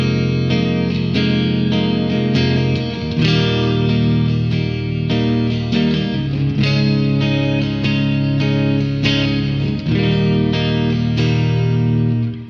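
An electric guitar played through a BT MkV pedal with added reverb, with boosted mids and treble, rings out in a continuous run of distorted, chorused notes and chords, loud and close with no talking.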